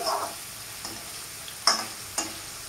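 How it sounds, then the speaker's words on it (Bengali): Cauliflower florets frying in hot oil in a pan, a soft steady sizzle with a few sharp crackles and clicks spaced out over a couple of seconds, close and fairly quiet. "তার জন্য আমি ফুলকপিটাকে ভালো করে ভেজে নিচ্ছি"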